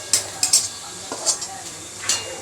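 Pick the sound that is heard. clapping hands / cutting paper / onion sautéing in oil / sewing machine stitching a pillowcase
onion sautéing in oil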